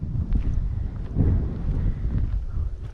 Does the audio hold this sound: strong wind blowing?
yes